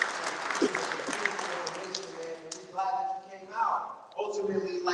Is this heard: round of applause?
yes